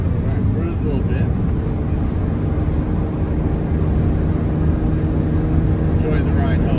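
A 1988 Ferrari Testarossa cruising on the road at about 85 mph, heard from inside as a steady low engine drone and road roar, constant and close with no letup.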